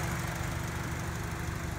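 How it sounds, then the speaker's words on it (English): A Honda Civic bought at a California dealer auction idles steadily, a low, even engine rumble heard up close and alone, with no talking. "Engine's sounding healthy."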